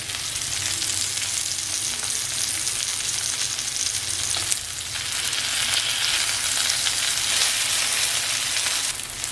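Batter-coated squid fries on a tawa with a loud, continuous sizzle and crackle close by, steady throughout with slight surges.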